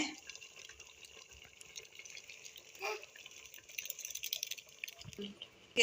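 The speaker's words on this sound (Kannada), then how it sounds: "ನಮಗೆ ಎಷ್ಟು ಬೇಕೋ ಅಷ್ಟು ನೀರು ಹಾಕ್ತಿದ್ವಿ" Water is poured into a thick drumstick, brinjal and potato sambar, a soft, irregular splashing and trickling that grows busier toward the end, fairly quiet and close.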